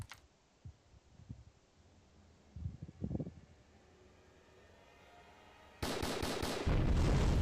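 Gunshots ring out in the Memento Mori video game: after a quiet stretch with a few soft thuds, a burst of loud, rapid shots fires in quick succession near the end.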